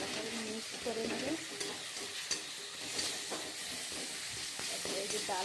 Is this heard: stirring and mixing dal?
yes